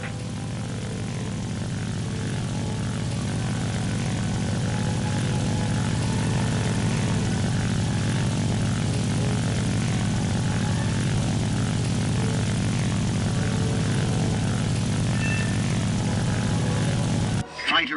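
An attack plane's propeller engine drones steadily and loudly in War Thunder, a constant low rumble with a whirring edge that holds unbroken throughout, with faint speech beneath.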